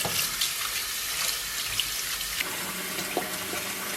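Tap water runs steadily into a kitchen sink as pork ribs are rinsed under it, a close, continuous splashing hiss with small shifts and drips as the pieces are moved around.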